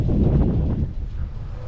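Gusty wind buffeting a microphone outdoors near a store entrance, a dense low rumble that is loud and close throughout, with no talk.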